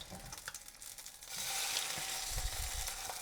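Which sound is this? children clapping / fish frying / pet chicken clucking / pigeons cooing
fish frying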